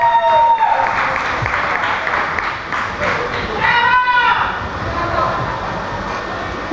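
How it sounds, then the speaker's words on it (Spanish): A concert crowd gives loud, sustained applause with cheers for a singer taking the stage, a steady dense clapping wash under a brief announcer's voice. "Fuerte el aplauso."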